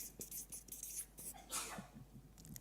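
A single sharp sneeze rings out from an audience member during a leadership lecture at an Academi Wales event in a quiet hall, brief and fairly faint against the room's low murmur.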